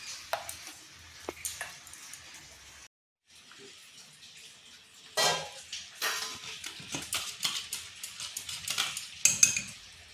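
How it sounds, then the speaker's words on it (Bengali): Coconut chutney stirred in a bowl with a spoon, repeated clinks and scrapes that pause briefly, then come back busier and louder. "একটু ভালোভাবে নেড়ে নিচ্ছি।"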